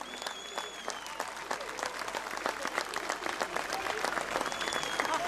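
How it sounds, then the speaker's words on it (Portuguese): Audience applause for the Bulgarian folk group Zlatna Trakia at a folklore show, steady dense clapping with some whistles and faint voices over it, moderately distant and sustained throughout. "Os vossos aplausos,"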